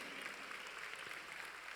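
A church congregation applauds during a Spanish-language worship service, a steady wash of clapping filling the room for the whole stretch with no pauses.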